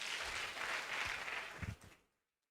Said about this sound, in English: One clap for all the doctors.